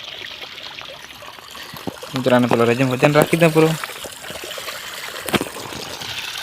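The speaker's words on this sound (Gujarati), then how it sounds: "પાણી ચાલુ થઈ ગયું તો" Irrigation water flows steadily into a sugarcane field with a continuous trickling stream, while someone speaks over it in the middle.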